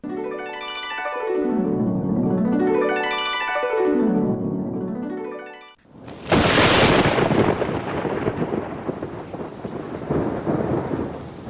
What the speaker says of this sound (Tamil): நம் நாட்டில் அடைமழை பெய்து கொண்டிருக்கிறது